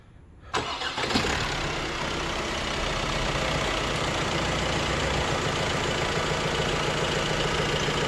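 A car with a worn clutch, showing 129,000 km, cranks briefly and starts up, then settles into a steady, fairly loud idle that runs unbroken with no voices.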